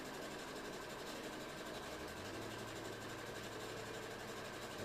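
A sewing machine stitches cut fabric pieces for a cosplay costume, a steady faint mechanical whir and rapid needle patter running continuously throughout.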